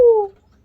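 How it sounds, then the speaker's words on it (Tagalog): A single short, clear call from one of the birds on a shop roof, a bright tone sliding downward and fading within a fraction of a second. "maraming mga ibon dyan sa bubong"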